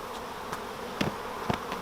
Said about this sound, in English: we don't want to crush those bees, so we'll just give that a little bit of shake